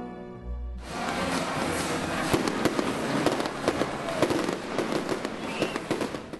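Fireworks go off at a Detroit Tigers baseball game after a brief low rumble. A dense run of loud cracks and pops follows, with a crowd noise wash underneath and some voices mixed in.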